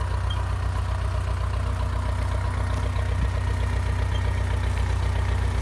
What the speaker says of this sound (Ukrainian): Декілька секунд покажу, як трактор працює.